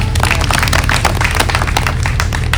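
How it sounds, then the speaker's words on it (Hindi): Vigorous, dense clapping from an audience at a Haryanvi comedy show fills the whole moment, rapid and steady with no pauses and no talking over it. "तो अजनबी जी के लिए जोरदार तालियां बजा दें।"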